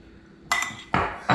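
Spoon clanks sharply against a bowl while homemade pizza sauce is mixed with olive oil, three loud separate knocks over a quiet background.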